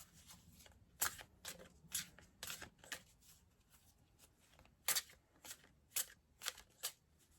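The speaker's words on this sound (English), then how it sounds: "at some point I will try to get a more sturdy table so it doesn't bounce so much when I shuffle" Tarot cards shuffled by hand on a table that bounces, giving a series of loud, crisp riffling bursts in irregular clusters, close and alone with no talk.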